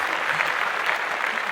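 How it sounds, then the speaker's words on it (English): Dense, sustained applause from many people, a steady wash of clapping with no pauses and no talk over it. "So, thunderous applause."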